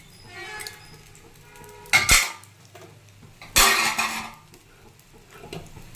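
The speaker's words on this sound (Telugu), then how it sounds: "దీంట్లో ఫ్రై చేసుకునేవన్నీ వేసేసుకుంటా." Ingredients for a Telugu-style fry are tipped into a pan, giving two loud clattering, rattling bursts against the metal with quieter kitchen clinks between them and no talk.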